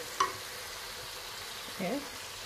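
Coconut milk hits a hot pan with a soft, continuous sizzle and frying hiss, joined by a brief clink of utensil and stirring, while a voice speaks quietly.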